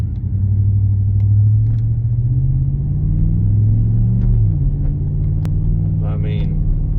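2018 Chevrolet Silverado 1500 LT Z71 pickup driving through downtown, its engine a loud steady low rumble from inside the cab that shifts pitch as the truck moves, with a brief squeak near the end.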